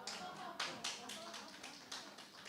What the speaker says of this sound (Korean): 여러분 박수 치시지만